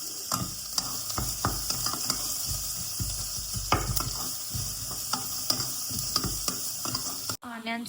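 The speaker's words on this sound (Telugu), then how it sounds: "ఇప్పుడు కొన్ని ఆనియన్స్ వేస్తున్నా." Onions frying and being stirred in a pot for a coconut-milk prawn rice, a steady broadband sizzle with repeated scraping clicks of the spoon, close and loud, ending with a brief sharper clatter.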